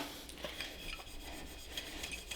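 Soft rasping and rubbing as a Cricut vinyl decal is pressed and burnished onto a bottle label, a steady close friction texture with a few brief scratchy strokes and no talking.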